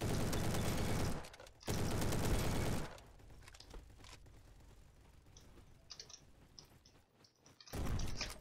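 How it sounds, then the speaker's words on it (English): Bursts of automatic gunfire in the Roblox game Arsenal, two loud dense volleys early on, then scattered quieter shots and clicks before another heavy burst at the end. "I'm already getting shot at and I just loaded in?"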